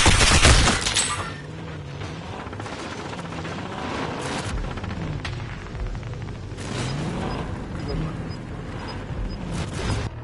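Rapid bursts of gunfire in the video game Call of Duty Warzone, a dense loud volley at the start followed by scattered shots, thumps and game noise continuing under talking voices.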